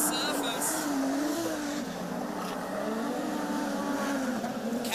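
A production sedan race car slides sideways on a loose clay dirt track at Lismore, its engine note droning steadily and loudly throughout, with race commentary talking over it.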